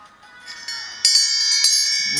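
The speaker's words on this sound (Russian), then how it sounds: "Такие индийские колокольчики тоже" Small Indian bells ring in a bright, shimmering cluster, with several struck tones building and sustaining close up, followed by a final ringing chime.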